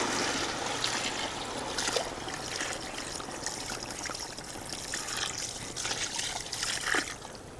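Homemade coconut milk trickles and pours steadily over beef leg, a soft continuous liquid stream with a few faint clinks from the pan, heard alone without talk.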